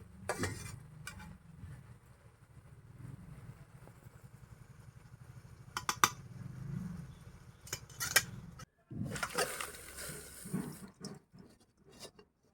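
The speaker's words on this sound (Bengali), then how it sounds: "বাঁধাকপিটা ভালোভাবে সেদ্ধ হয়ে গেছে, এবারে আমি ঢেলে নিচ্ছি।" Boiled cabbage being poured out of a pot, sloshing water and clattering cookware in a steady stretch of wet, rushing noise with a few sharp metallic knocks and a louder splashy burst near the end.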